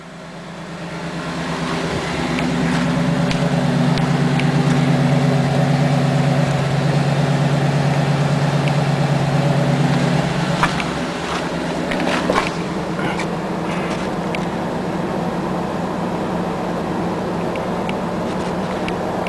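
Dodge Dakota engine idling after a fuel pump replacement, a steady low rumble running close and continuous, with a slight change in tone partway through and a few small knocks near the end.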